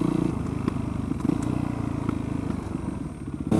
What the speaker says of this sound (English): This is a guy on a sport bike